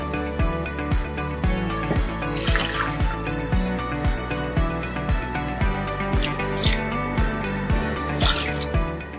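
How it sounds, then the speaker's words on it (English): Water pours into a cooking machine bowl in a kitchen, a rapid run of close drips and splashes over a steady background hum. "Let's weigh 100 grams of water."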